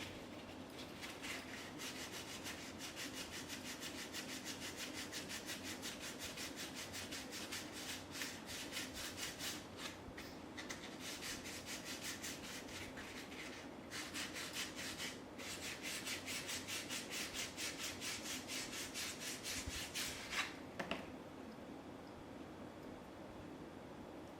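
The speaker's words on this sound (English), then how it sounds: "I think I'll go ahead and sand it just a bit too." Steady rasping abrasion of sandpaper against a copper coin ring made from a one-ounce copper round, continuous and fairly close for about twenty seconds before stopping.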